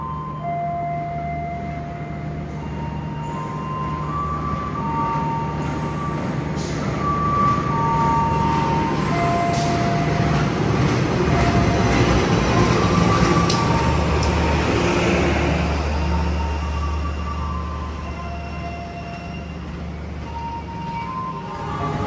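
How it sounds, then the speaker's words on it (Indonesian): The Walahar Express from Cikarang to Purwakarta rolling into a station, a loud sustained rumble of wheels and carriages that swells toward the middle and then slowly eases, with faint squeals over the rumble. "Yang akan masuk adalah kereta api Walahar Express dari stasiun Cikarang tujuan stasiun Purwakarta."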